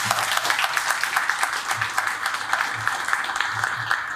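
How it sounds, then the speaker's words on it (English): An outdoor crowd applauds steadily at a Bastille Day celebration held by an Army infantry division, with dense, continuous clapping that carries through the whole moment at even loudness. "please join me in a round of applause"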